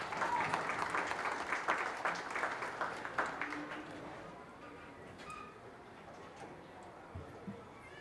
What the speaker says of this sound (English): let's give these kids a nice round of applause